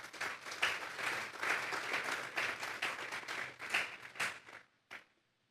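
Church congregation applauding during a sermon: dense, steady clapping from a sizable crowd for about four seconds, then thinning out and stopping with a last few scattered claps.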